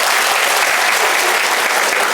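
A large audience at a teachers' award ceremony claps loudly and steadily in sustained applause, a dense even patter close by that fills the whole stretch.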